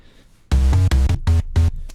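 MiniBrute 2 analog synthesizer playing square and triangle waves mixed with a little noise: five short punchy notes in quick succession, close and fairly loud, after a faint hiss.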